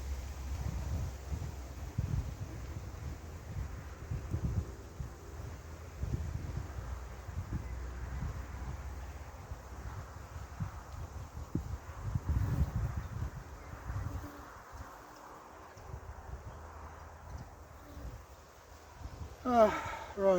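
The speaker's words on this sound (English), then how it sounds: "It's not helping that the wind's picking up." Wind gusting outdoors at a beehive, blowing smoke away, a steady rumbling roar of wind buffeting the microphone that rises and falls throughout, with brief rustling near the end.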